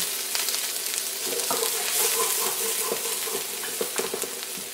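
Chopped onion sizzles in coconut oil in a hot wok as a base for kimchi cauliflower fried rice. A steady, close frying hiss runs throughout, broken by small clicks and scrapes of stirring, with no talking.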